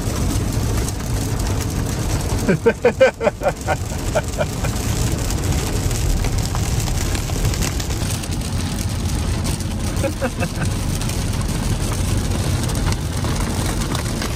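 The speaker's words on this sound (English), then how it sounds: "Crazy rain here all of a sudden." Heavy rain drums on the roof of a moving electric car, a Mercedes EV, as a constant broadband hiss over low road and cabin rumble. A burst of rhythmic clicks comes in briefly early on.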